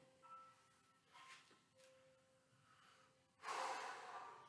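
Slow, deep breaths drawn in through the nose during a gentle stretching and flexibility routine, soft airy inhalations rising and fading, ending in a louder, fuller breath near the close; no talking.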